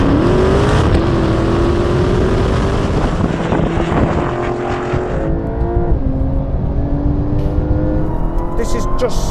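Dodge Challenger Demon and Porsche 911 Turbo S in a rolling race from 50 mph, engines roaring loudly and rising in pitch through gear changes, with heavy wind rush.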